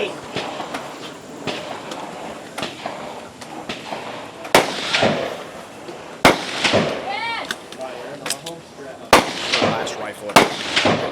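Rifle and pistol fire at a regional shooting competition sounds as irregular sharp reports, some softer and several loud cracks, spread across the stretch with echoes and background voices.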